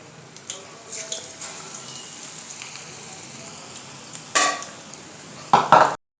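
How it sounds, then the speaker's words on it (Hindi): Potato balls fry in hot oil with a steady, soft sizzle and crackle, interrupted by a few louder clattering scrapes near the end. The sound is close, with no talk. "इसी तरह मैं तमाम जितने भी मैंने बॉल्स बना के रखे हैं सबको मैं फ्राई कर लूँगी इसमें।"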